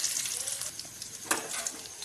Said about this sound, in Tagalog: sabay-sabay na po natin ilagay itong ating bawang, luya at saka sibuyas